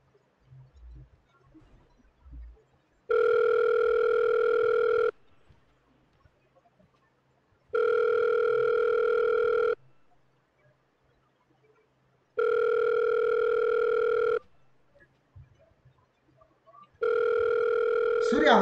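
A phone call rings out in the GTA 5 video game, four long, evenly spaced ringing tones with silent gaps between, fairly loud, with faint background sounds and brief speech in the pauses.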